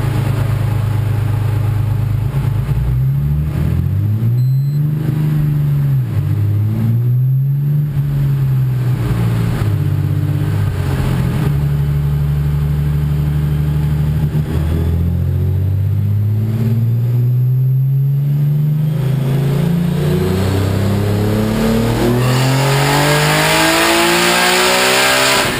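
A methanol-injected car's engine revs hard and close on a dyno, pitch swinging up and down before climbing into a loud, sustained high roar.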